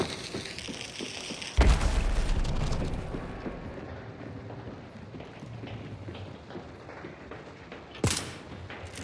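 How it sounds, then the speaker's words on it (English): Grenade blast in the video game Hunt: Showdown, a sharp, loud boom followed by a fading rumble and scattered gunfire, then a second sharp crack near the end. "Oop, grenade, grenade."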